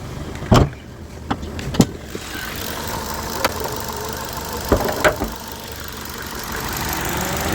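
A Ford Fiesta engine idles after a rebuild, a steady running hum with several sharp knocks and clicks scattered through it, heard close up with no talking.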